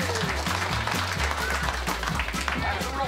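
Clapping from a crowd at a belt sander race event, a moderately loud patter of hands under a low rhythmic hum, with voices mixed faintly into the background.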